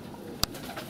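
Crested pigeons kept in a backyard loft give a single sharp wing flutter close by, set against a soft, steady background of faint cooing and rustling.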